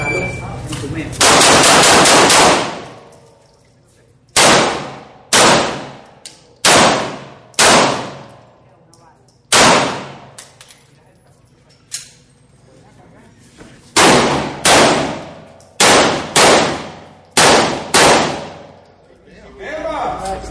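Pistol shots ring out at an outdoor IDPA shooting stage, starting with a rapid string and then coming in loud, close bursts and pairs with short pauses between, each followed by a sharp echo.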